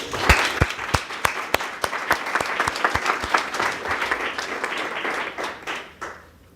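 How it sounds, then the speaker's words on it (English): An audience at a Louisville Metro Health Department briefing on a hepatitis A outbreak gives a warm round of applause. Sharp individual claps stand out over a full, steady patter that tapers off at the end. "And I think they deserve a warm round of applause"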